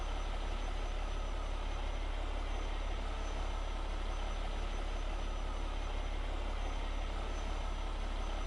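Truck engine idling in a farming video game during sugarcane harvesting, a steady low rumbling drone that stays constant and unbroken throughout with no talk.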